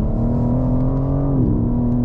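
Four-wheel drive performance car with six-piston calipers and 370 mm discs accelerating hard under throttle, a loud, steady engine drone rising slightly in pitch from start to finish, close and continuous with no talking.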